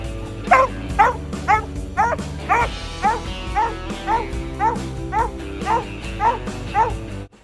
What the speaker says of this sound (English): He stretched up on the tree and barked once